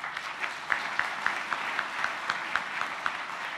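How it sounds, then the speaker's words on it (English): Audience clapping at a peace convention opening plenary in Malaysia, steady moderate applause with a few sharper individual claps standing out, no voices over it. "May we give them a round of applause"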